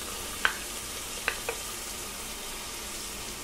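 Chopped onions fry in oil with a piece of cinnamon and four cloves, a steady low sizzle broken by a few sharp clicks of stirring.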